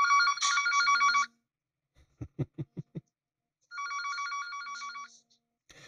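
A phone rings twice with loud, bright electronic trilling bursts, separated by a short pause holding a quick series of low thumps.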